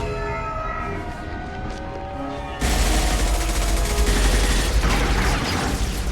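Gunfire breaks out in the video game Mass Effect 2, a sudden dense burst of rapid shots that starts partway through and continues loudly over earlier tonal game music.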